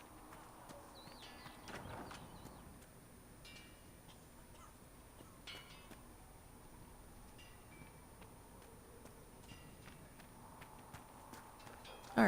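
Horse hooves clip-clop at a walking pace in a video game, faint and steady against a quiet ambient backdrop, with occasional crow-like caws.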